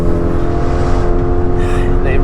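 An Abarth hot hatch engine pulls hard under full throttle on the Nürburgring, a loud, steady, close drone with a strong rising tone and no breaks.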